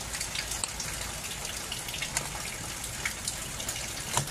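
Steady, dense rain pours down with a constant hiss and scattered drips and splashes, no voices.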